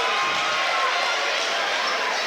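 Basketball crowd at a high school playoff game, Wildwood Catholic versus Atlantic City, roaring and cheering after a dunk; a dense, sustained wash of noise filling the gym throughout.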